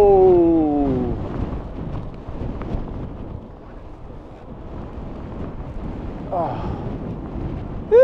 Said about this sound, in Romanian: Mamă, și bate un vânt.